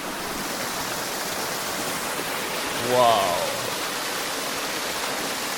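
A river rushes past a riverside property in a constant, close, full wash, while a voice briefly exclaims partway through.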